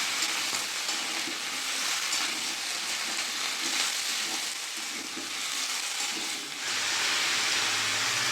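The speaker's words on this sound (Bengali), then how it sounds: "কেটে রাখা লাউগুলো দিয়ে দেবো। ভালো করে নেড়ে নেব।" Chopped bottle gourd fries in a pan with a loud, continuous sizzle as it is stirred. The hiss eases briefly near the end and then surges back.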